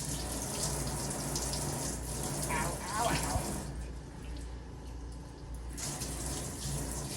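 Hot water runs steadily from a tap, a continuous broadband rush with brief pauses in the flow, while a person exclaims in pain over it.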